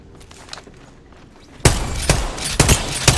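Gunfire in a battle royale shooter, with faint distant shots giving way to a sudden loud close burst of rapid rounds and several sharp cracks.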